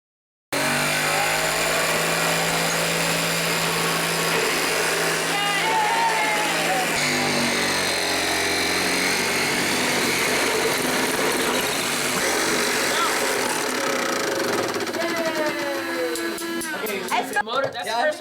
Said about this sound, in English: The motor successfully shaking itself out of a gearbox.